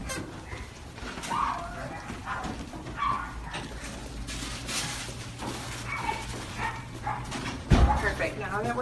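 Dogs in the rooms of an animal shelter's behavior center bark and yip repeatedly in the background, echoing under close conversation, with a louder burst near the end.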